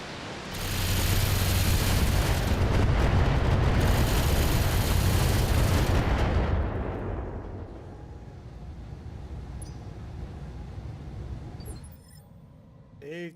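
Weapons fire and explosions in a BattleTech mod, heard as a sustained, loud roaring blast of noise for several seconds that fades to a quieter rumble, with faint game sounds after.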